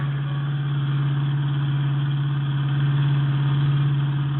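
A car engine drones steadily as the car drives along, a sound effect in an old radio detective drama. The hum is continuous and even, rising slightly in loudness near the end, with no voices.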